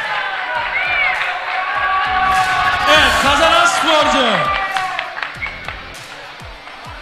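Crowd applause and cheering fill an arena after a kickboxing-style fight, steady clapping that swells midway while an announcer speaks over it and echoing bounces punctuate the noise.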